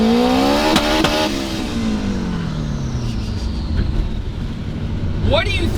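A turbocharged Honda S2000 pulls hard through the gears, engine note rising then dropping with shifts, continuous and close from inside the car, with a sharp whistling rise near the end.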